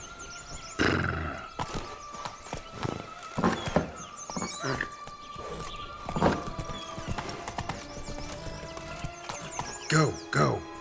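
Hooves of Roach, a horse ridden through The Witcher 3: Wild Hunt, Blood and Wine, clop in an uneven trotting-to-galloping rhythm over ambient game music, with a brief whinny near the end and a voice calling out.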